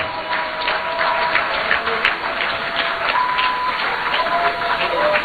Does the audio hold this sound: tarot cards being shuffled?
no